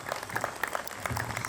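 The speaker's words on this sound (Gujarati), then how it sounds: "બસ આ બધા તાળીઓના ગડગડાટથી બતાવો છો." Audience at a community get-together in Surat applauding, a brief patter of scattered claps heard at moderate distance.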